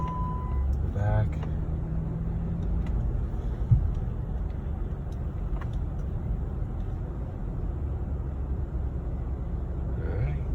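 A Jeep Grand Cherokee Limited with a 5.7 HEMI creeps over a solid ice driveway on winter tires, a low steady engine rumble underneath people talking throughout.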